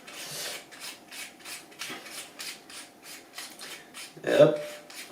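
Someone turns the adjustment screw on the scope of a Gamo .177 air rifle, giving a run of soft, evenly spaced rubbing clicks, close and quiet, with one slightly louder scrape near the end.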